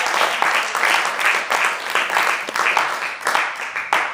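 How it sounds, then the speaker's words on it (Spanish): A church congregation claps in a steady, rhythmic beat, many hands together and fairly loud for the full length, like applause keeping time with worship. "Dale palmas al Cordero Santo"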